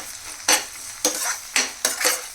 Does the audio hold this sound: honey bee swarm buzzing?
no